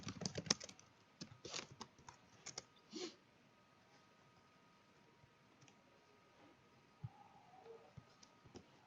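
Quick keystrokes on a computer keyboard entering a Django runserver command. A dense burst of clicks comes first, then the typing thins to scattered, faint taps, close up with no talk.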